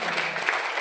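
Brief burst of dense audience applause filling under a second at a health talk given by dr. R. Setio Boediprajitno, steady and moderately loud without a clear break.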